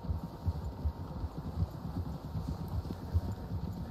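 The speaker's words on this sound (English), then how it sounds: "Horses, quite a few of them." Several horses' hooves clip-clopping on a trail in Red Dead Redemption II, a steady rhythmic stream of soft, fairly quiet hoofbeats with no talk.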